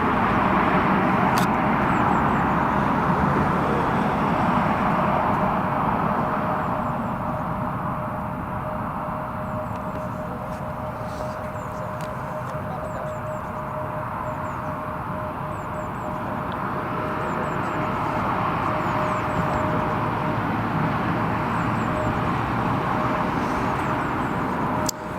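Jet2 Boeing 737 from Malaga touching down at Newcastle airport, a sustained broad roar of jet engines at moderate distance, swelling and easing as the plane lands, with no talk over it.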